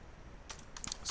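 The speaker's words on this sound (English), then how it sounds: "we type" A web address being typed on a computer keyboard: a quick run of light, close key clicks that grows busier toward the end, over a quiet room.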